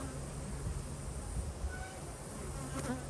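Bees in an apiary under VarroxSan mite treatment buzz in a dense, continuous hum close by, a steady swarm drone with no talking over it.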